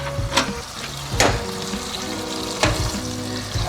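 Ground turkey, high in fat, frying in oil in a pan, a loud close sizzle punctuated by a few sharp scraping stirs and a low sustained hum underneath, no one talking.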